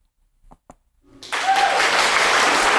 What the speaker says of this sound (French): Non, on applaudit.